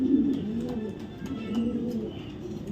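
Racing pigeons, including a male, coo in a loft, a low, rolling, repeated coo that swells and fades close by, with faint chirps in the background.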